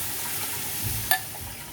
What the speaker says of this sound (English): now keep cooking by stirring continuously, otherwise chances are that it will stick in the bottom